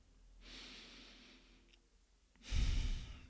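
Two deep breaths close to the mic: a soft, slow inhale followed by a louder, rushing exhale with a breathy low rumble.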